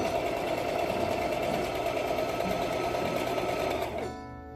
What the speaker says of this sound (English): I'll just chain stitch these.